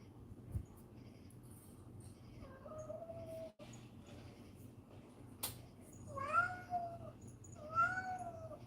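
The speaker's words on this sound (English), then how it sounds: "Everybody hear Boss Kitty in the background?" A house cat meows in the background, with three drawn-out, rising-and-falling meows spaced a couple of seconds apart, faint and somewhat distant over a quiet indoor hum.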